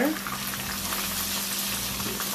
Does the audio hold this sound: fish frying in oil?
yes